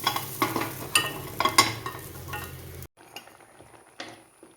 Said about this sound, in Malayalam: ഞാൻ തീ ഓഫാക്കിയിട്ട് ഒരു സെക്കൻഡും കൂടെ ഇളക്കി